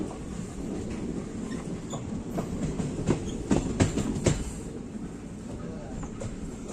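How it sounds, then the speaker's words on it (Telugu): Passenger train rolling along the rails on the Jammikunta–Kazipet line near Kazipet, a steady broadband rumble with a cluster of louder clattering wheel knocks midway, heard close from on board and continuous throughout. "ప్రజెంట్ అయితే ట్రైన్ కాచిపేట టౌన్ స్టేషన్ కి అయితే రీచ్ అవుతుంది."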